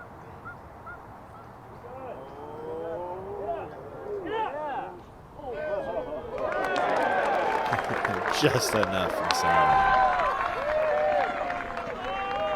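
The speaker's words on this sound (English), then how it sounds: "Crowd approved. They love that one." Spectators at the 2025 PDGA Champions Cup women's FPO final round cheer and applaud a disc golf shot, a broad swelling roar and clapping that builds midway and holds, with commentators talking over it.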